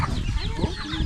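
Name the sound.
chickens clucking on a farm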